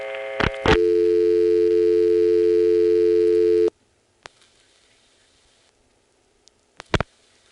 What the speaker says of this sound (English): The busy signal comes on, possibly because I'm dialing too slowly or because I dialed something invalid.